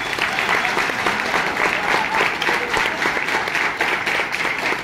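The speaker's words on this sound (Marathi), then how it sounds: "त्यामुळे जोरदार परत एकदा टाळ्या त्यांच्यासाठी वाजवा" Dense, steady applause from an audience at the inauguration of an old-age home and recreation centre in Kolhapur, clapping continuously and fairly loudly for about five seconds with a faint crowd murmur.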